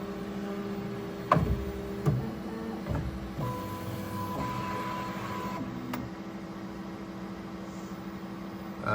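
Bambu Lab P1S 3D printer moving during its first print, with steady motor whines and a fan hum, plus a few sharp clicks and clunks early on, close and moderately quiet.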